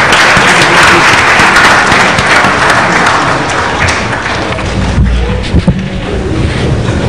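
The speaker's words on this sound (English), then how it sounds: "Can we please give them a round of applause?" A conference audience of delegates applauds a panel, loud continuous clapping throughout with a rough, wind-like texture and a few thumps near the end.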